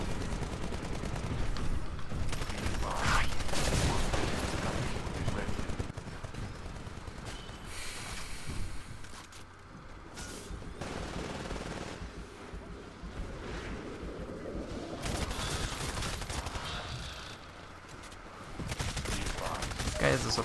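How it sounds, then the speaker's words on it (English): Suppressed shotgun fire in the video game Titanfall, several dense bursts of muffled blasts amid other battle noise, loud through most of the stretch with brief lulls. "This guy has a suppressed shotgun"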